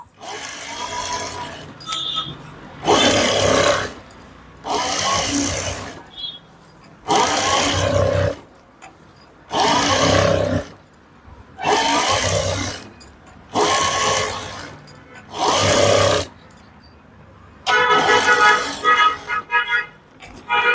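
A sewing machine runs long stitches along a saree hem in about eight short, loud bursts, each roughly a second long, separated by brief quiet gaps.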